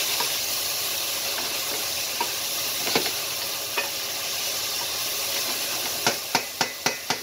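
Garlic sizzles with vegetables in a hot pan, a steady close frying hiss, with a few light clinks of a utensil stirring near the end.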